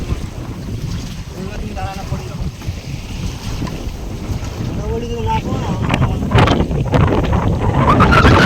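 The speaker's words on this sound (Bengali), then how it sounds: "প্রচন্ড ঢেউ কিন্তু।" Strong waves rock a fishing boat on a Sundarbans river, giving a loud, steady rush of wind and churning water that builds toward the end, with faint voices underneath.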